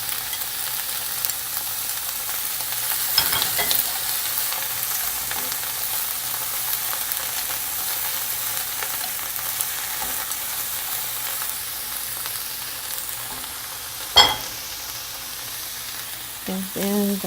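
Green onion tops and wild fennel sautéing with napa cabbage in a hot pan, a steady even sizzle held throughout at moderate level, broken by a couple of sharp clanks of a utensil, no speech.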